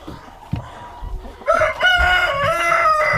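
Hens in a chicken coop cluck and call, building into a loud, drawn-out tonal cackle after a few soft clucks and rustles, close and clear with no talking over it.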